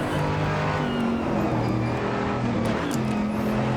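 A car driven in a racing video game, its engine a steady droning hum with shifting pitch as it accelerates and shifts, continuous and fairly loud, no voices.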